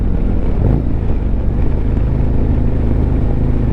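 Harley-Davidson Road Glide bagger motorcycle on a test ride, its engine giving a steady, loud low rumble throughout with no talking over it.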